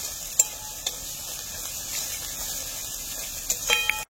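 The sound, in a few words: ginger and garlic frying in oil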